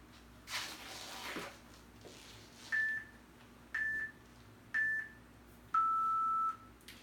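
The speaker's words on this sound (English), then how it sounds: "Okay, I gotta set the timer." A timer is set with four short, clear electronic beeps at an even pace, the last held longer than the others, after a brief rustle at the start in an otherwise quiet room.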